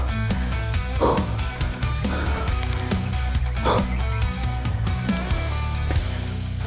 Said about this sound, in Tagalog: Ang mga aso. Hi doggy.